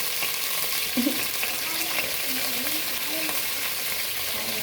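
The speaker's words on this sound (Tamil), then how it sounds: "ஒரு சட்டியை எடுத்து அதில் எண்ணெயை ஊற்றி முருங்கைக்காயும் கத்திரிக்காயும் உள்ளே போட்டுருவோம்" Drumsticks and brinjal frying in oil in a pan, giving a steady close sizzle with faint stirring scrapes throughout.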